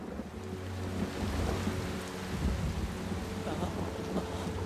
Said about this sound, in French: Vous n'aimez pas la pluie, jeune homme?